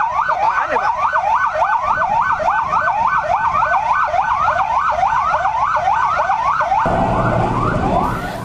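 A convoy of Indonesian military (TNI) vehicles in Petamburan sounds a loud wailing siren, cycling quickly up and down in steady repeated sweeps over street rumble, near and continuous.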